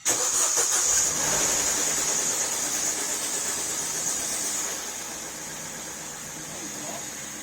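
An Opel Corsa D 1.2 engine, after timing chain repair, cranks and catches on its first start, then settles into a steady running hum, with broad hissy noise throughout.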